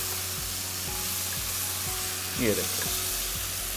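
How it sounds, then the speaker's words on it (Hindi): Potatoes and tomatoes sizzle in a hot pan for aloo matar pulao, a steady frying hiss with a brief stirring scrape, under a short spoken remark. "आलू को हमें 3-4 मिनट तक भूनना है"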